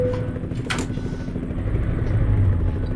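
A helicopter in the video game Euro Truck Simulator 2 produces a steady, deep rotor rumble with a low droning hum, continuous and fairly loud, with a brief whooshing swell partway through.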